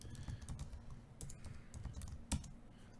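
Login credentials are typed on a computer keyboard in quick, uneven bursts of close clicking keystrokes, with one louder key press near the end and no voices.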